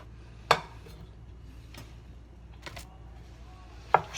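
A wok is set down on a stove with two sharp metallic clanks, one near the start and one near the end, plus a few lighter knocks in a quiet kitchen.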